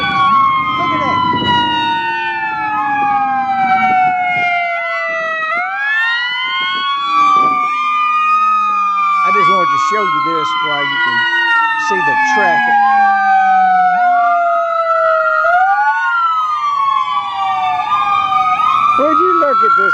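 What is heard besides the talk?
ambulance siren in traffic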